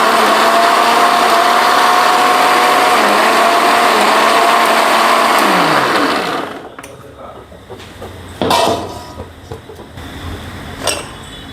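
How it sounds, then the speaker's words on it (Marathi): Mixer grinder whirring loudly and steadily as it blends boiled tomatoes for tomato soup, the motor running for about six seconds before winding down, followed by quieter clatter of the jar and kitchen handling. "आता आपण हे मिक्सरला काढून घेऊ."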